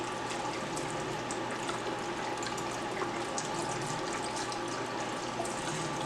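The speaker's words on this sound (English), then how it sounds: "We take our chicken broth, open that up, pour that in there." Chicken broth poured into a pot for chicken and dumplings, a steady, continuous splashing stream of liquid, close and even throughout with no talking.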